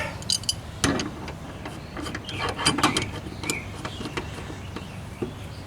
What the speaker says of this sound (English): I can use a tool like a regular wrench here to, cut my threads